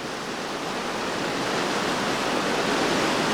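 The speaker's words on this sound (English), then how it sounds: "Right there in the center of the river, it's the surprise wave" Churning white-water river rapids at a standing wave in the middle of the river during a rafting trip, a loud, steady broadband roar of rushing water throughout, with no voices.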